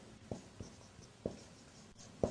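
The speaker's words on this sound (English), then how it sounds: "I will write down." Marker or chalk writing on a board during a classroom lesson, heard as a few quiet, separate taps and short strokes spaced irregularly across a near-silent room.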